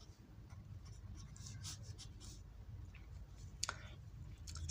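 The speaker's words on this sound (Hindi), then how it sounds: "सबसे पहले हम सॉल्यूशन लिखेंगे।" Pen or pencil writing out a math solution on paper, faint scratchy strokes and small taps arriving in short irregular bursts against quiet room noise.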